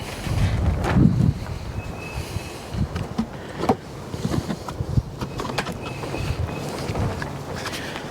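Strong outdoor wind gusting against the microphone as charcoal is lit with a tumbleweed in a chimney starter for a Pit Barrel Cooker on a winter day, a steady rumbling roar with a few small knocks.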